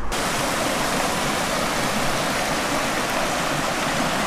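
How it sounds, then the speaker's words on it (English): A steady, loud roar of rushing water from a big waterfall, broad and continuous, with no voices over it. "Big waterfall over there, so we're going to go check that out."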